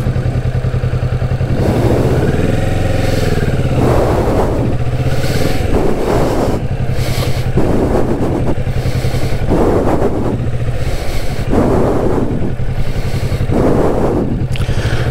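A Kawasaki Vulcan S motorcycle runs steadily at low speed during learner manoeuvres, its engine a continuous mid-pitched drone with rising and falling surges as the throttle shifts, loud and close throughout.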